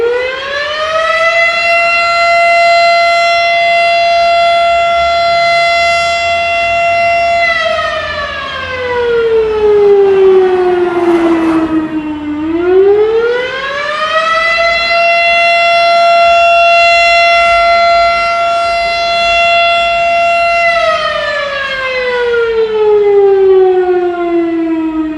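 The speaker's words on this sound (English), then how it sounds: "If we're under attack, what is that an air raid siren?" An air raid siren wails loud and steady, holding a long high tone, sliding down to a low growl, then rising again and holding before falling once more, with no voices.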